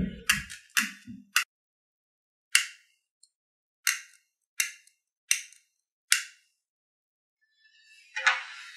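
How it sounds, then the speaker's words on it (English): A mini torch is struck repeatedly while trying to light for cleaning a carbon-coated eGo ONE atomizer coil: a series of sharp isolated clicks in an uneven rhythm, close and crisp, ending in a brief hissing burst. "The easiest way to clean that off is with a little mini torch."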